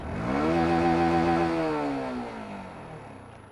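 A Yamaha YZF-R125 motorcycle engine revs up steadily to a high, droning pitch of about 10,000 rpm, holds, then winds down and fades, heard somewhat muffled without any talking.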